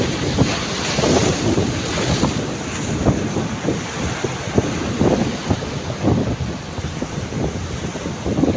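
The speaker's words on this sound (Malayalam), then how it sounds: "ആഹാ, കാത്തിരിക്കാമെന്ന് പറഞ്ഞപ്പോഴേ നമുക്കിത് ഇവിടം വരെ വെള്ളം കയറിയ ഒരു തിര കിട്ടി." Sea waves roll and break on Chembarikka beach in Kasaragod, Kerala, a loud continuous surf wash mixed with gusting wind buffeting the microphone, no talking.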